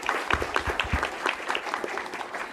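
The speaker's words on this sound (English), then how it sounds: "So let's give them a round of applause." An audience claps in a round of applause at a school board meeting honoring a middle school's Golden Apple Award, with scattered, uneven handclaps from a modest crowd and a voice heard faintly underneath.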